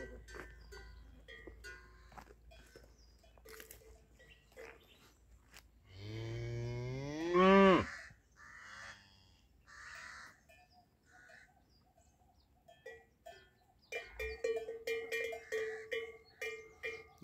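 Cattle on a shepherd's farm with cowbells: one loud, drawn-out moo rises mid-way amid faint clanks and scattered rustles, then a busier patch of bells and knocks follows, all fairly distant and quiet with no talk.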